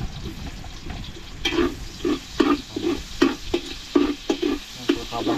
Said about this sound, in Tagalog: Tayo po magigisa na po ng bawang.